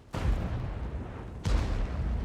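Heavy tank cannon fire in an armored combat video game: two loud, booming shots about a second and a half apart, each a sharp blast followed by a long rumbling tail, with no talk.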